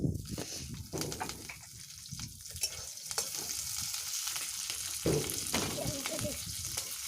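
Green chili dropped into hot oil after frying lentil dumplings, giving a steady broadband sizzle and crackle throughout, with some clatter and faint voices underneath.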